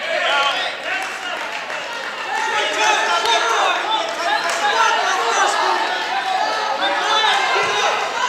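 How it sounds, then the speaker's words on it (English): A loud Richmond crowd at a wrestling match against Armada roars and cheers without letup, a dense wall of voices filling the arena. "This is probably the loudest the crowd has gotten so far tonight, as the Richmond crowd urging McKernan to come out."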